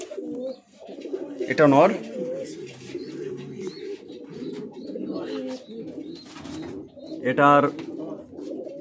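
Fancy pigeons in a breeding loft coo in two clear bursts amid soft background cooing, close by, while someone talks over them.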